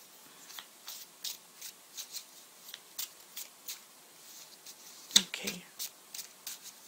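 Tarot cards riffled and shuffled by hand in a steady run of soft papery bursts, close and quiet, with one sharper slap near the end.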